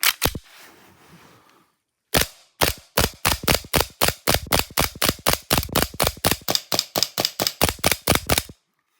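An EMG Staccato C2 gas airsoft pistol fires a long string of sharp semi-auto shots close by, each crack evenly spaced and distinct, with no bursts, after a brief quiet rustle and a pause.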